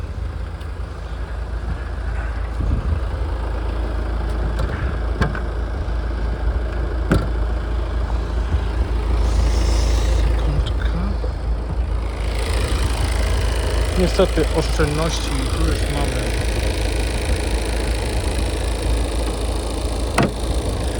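A used Opel Grandland X with a 2.0-litre 177 hp engine and automatic gearbox idles with a steady, low, even rumble throughout, while someone talks over it.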